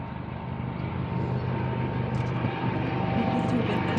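Helicopter flying overhead in Kuwait with a flag hanging beneath it, its steady broad engine and rotor drone filling the air continuously and loudly, with no talk.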